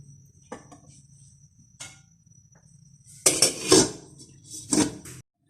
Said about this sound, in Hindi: तो अब मैं इसको कवर कर दूंगी और इसको गलने के लिए रख दूंगी।